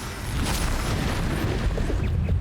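A Bombarda explosion spell cast in Hogwarts Legacy gives a dense, rumbling blast with a low boom that stays loud and sustained for the whole moment.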